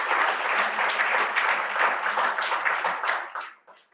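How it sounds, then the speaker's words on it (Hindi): Audience clapping loudly at a blood donation felicitation event, a dense, steady burst of applause lasting a few seconds before tapering into a few scattered final claps. "एक बार जोरदार तालियां आप सबके लिए।"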